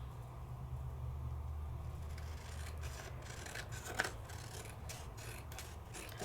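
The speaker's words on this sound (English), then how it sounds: "So I could take this and just trim this on down." Scissors snip and slide through a paper envelope liner being trimmed down to fit inside a handmade card, a run of soft cutting strokes at close range over low background hum.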